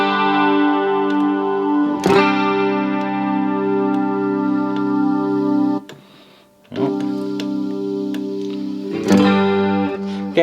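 Electric guitar chords played through a Yamaha THR10II amp with an echo effect, loud sustained strums ringing out with trailing repeats, one brief drop to near silence midway, and no talking.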